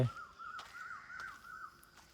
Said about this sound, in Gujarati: પંખીડાઓનો કલરવ, બહુ મજા આવે